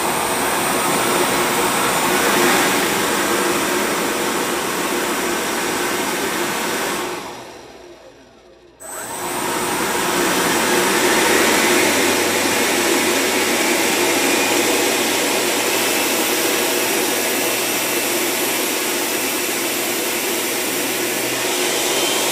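A 3D-printed RC electric ducted fan jet turbine runs loud and steady with a broad roaring whoosh, cuts out briefly near the middle, then spins back up to a sustained howl.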